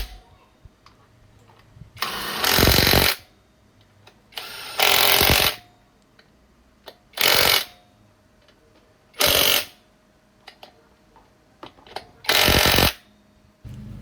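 A BOE cordless impact wrench on its stock battery, fitted with a 24 mm socket, hammers on a scooter's rear wheel nut in five loud, separate rattling bursts of one to two seconds each, with quiet gaps between them.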